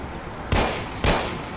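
Two loud gunshots from a Colt 1911 semi-automatic pistol in the video game Mafia, sharp broadband cracks about half a second apart, each trailing into a short decaying tail, with no talking.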